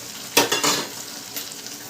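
Fried chicken pieces going into a hot pan for chilli chicken make a brief, close burst of sizzling with light clatter, then settle into a softer fry within two seconds.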